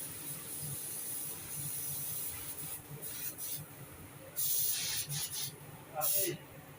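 An aerosol sprayer hisses in short bursts during paint repair at a joint on an Aston Martin sports car, several close blasts of varying length over a murmur of background noise.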